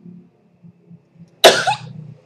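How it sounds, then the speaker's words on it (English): A single sharp, explosive sneeze bursts out after a few quiet murmurs, loud and close, trailing off with a short breathy tail. "Oh, I have to sneeze."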